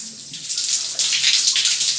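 Tap water running steadily while an herbal face mask is rinsed off, a close bright hiss of flowing water with slight surges and no voices.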